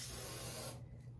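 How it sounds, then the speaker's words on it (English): Suave Max Hold hairspray sprayed onto a pigtail, one close, steady hissing burst that cuts off sharply, with no talk. "we're just going to start spraying the pigtail"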